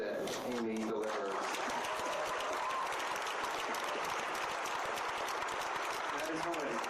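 Audience applause at a Much Ado About Nothing cast panel in a Hollywood cinema, dense sustained clapping from a crowd filling the whole stretch, with a brief voice heard at the start and again near the end.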